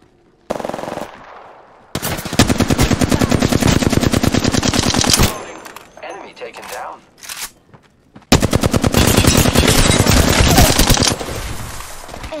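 Automatic gunfire in the battle royale game Apex Legends: two long, loud bursts of rapid shots close by, split by a quieter gap holding a few scattered sounds, with faint voices now and then.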